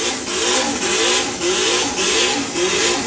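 Tuned Ford Fiesta ST drag car at a Japanese-car drag racing show, its engine droning steadily and loudly with rising revs and slight surges, mid-pitched and continuous.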